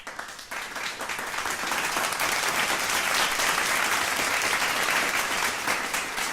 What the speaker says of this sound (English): let's give her a round of applause because she's a motherfucking pimp.